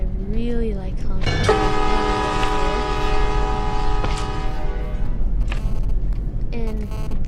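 Sustained chord-like blast of a locomotive horn in the Traincraft game, holding steadily for several seconds over a low rail rumble, with shorter toots at the start and end.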